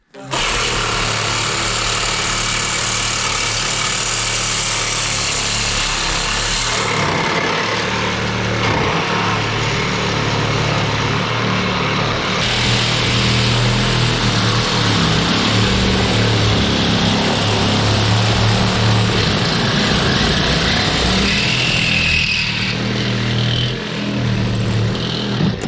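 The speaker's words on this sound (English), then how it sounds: "Trying to cut away from these intersections because welds are harder than the regular steel." A power tool cuts steel while breaking up a burned, illegally dumped RV, sawing near welded intersections; a loud, steady grinding whine runs the full length with shifts in pitch and some faint talk beneath.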